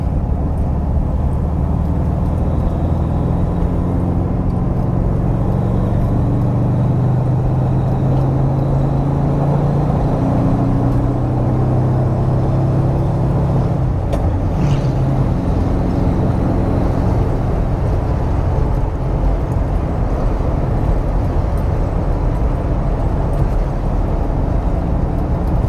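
A 1971 VW Bus engine runs steadily while the bus drives a lap, with a loud, continuous, rumbling drone and road noise inside the cabin and no break for the whole stretch.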